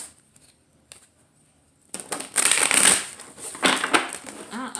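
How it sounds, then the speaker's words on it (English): A deck of tarot cards is shuffled, with a brief quiet stretch of a few faint taps before a dense riffling burst, a pause and another shorter rustle, close and fairly loud. "I can't shuffle today."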